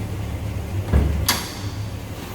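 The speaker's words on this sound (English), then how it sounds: "I think I can get this hood open." Hood of a 1972 Chevrolet C10 Cheyenne pickup popped open: a low, close thud followed a moment later by a sharp metallic click, with quiet background and no talking.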